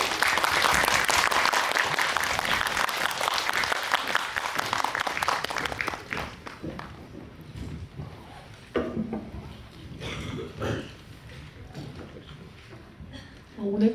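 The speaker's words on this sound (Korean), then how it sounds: "큰 박수로 환영해 주시기 바랍니다." Audience applause welcoming actress Park So-dam to a film talk event for 'Sound of Falling', loud and steady for about six seconds, then thinning out into scattered claps and room murmur.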